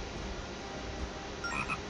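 A frog in The Legend of Zelda: Phantom Hourglass croaks over a steady, noisy game background. The croak is fairly faint and continuous, with a slightly brighter warble near the end and no speech.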